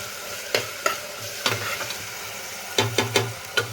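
Rice being tempered in a pan with potato, onion and crackling cumin: a low sizzle runs underneath while a spoon scrapes and taps the pan in irregular bursts, close and moderately loud, without speech.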